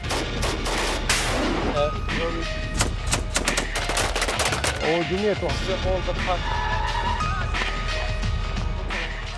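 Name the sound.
gunfire and bombs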